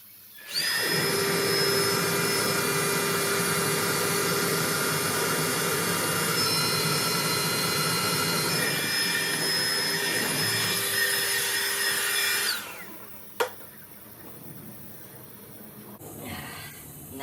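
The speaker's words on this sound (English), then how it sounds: "you want to make sure you blow out all the debris out of there" Compressed air blasts debris out of a water heater's combustion chamber during maintenance, a loud steady hiss running about twelve seconds before cutting off, followed by a brief sharp knock and a short burst of air at the end.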